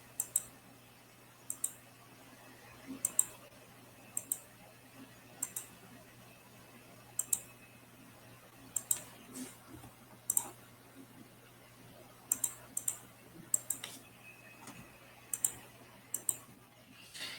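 Quiet, close computer mouse clicks and an Enter key press sound while drawing in CAD. The sharp, isolated clicks come in irregular bursts over a faint background hum.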